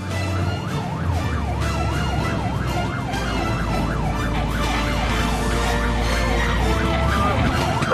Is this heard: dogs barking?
no